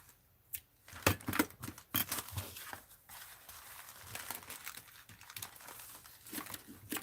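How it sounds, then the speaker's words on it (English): Scissors snip and crinkle paper for a mixed-media art journal, giving a series of close, quiet cuts and rustles in irregular bursts. "Snip it."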